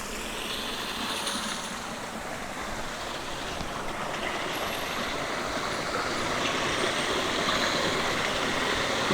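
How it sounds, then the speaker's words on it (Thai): A forest waterfall: a steady, dense rush of falling water, a continuous broadband roar that builds slightly toward the end, with no voices. "เราได้มาตอนที่มันมีน้ำตก"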